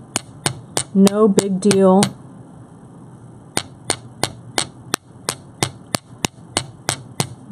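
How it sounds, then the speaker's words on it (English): A jewelry maker's hammer taps crisply onto a metal block in an even, regular rhythm of sharp strikes while shaping a bracelet or earrings; they are loud and close, with a brief stretch of talking between the taps. "Let the hammer fall down onto the block."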